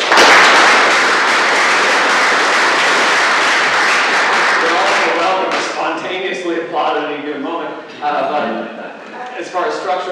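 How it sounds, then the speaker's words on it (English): An audience at a multidisciplinary panel discussion on nuclear environments breaks into loud, full applause for the panelists that lasts about five seconds before fading under a person speaking. "can we say a round of applause for all of them in advance?"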